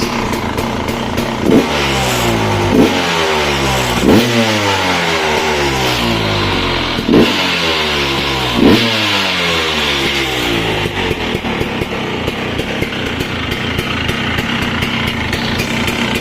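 A KTM or Husqvarna 300 two-stroke dirt bike engine, running leaner after a rich-running fix, revs repeatedly, sharp throttle blips rising and falling in quick succession before settling into a steady, buzzing idle-high drone.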